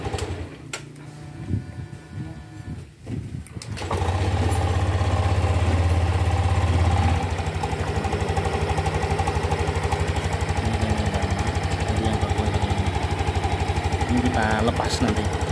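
A 2021 Honda Beat scooter with a lost-ignition fault is started and left idling, a close steady engine putter with a fast even beat after some handling noise. A voice talks faintly at the start.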